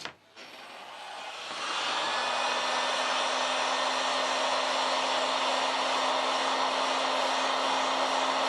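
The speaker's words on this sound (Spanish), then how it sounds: "Procedemos a secar la tarjeta empleando un paño de cocina y una pistola de calor." A heat gun starts up and settles into a loud, steady blowing whir with a constant tonal hum, drying a wet OnePlus phone circuit board, running alone and unbroken.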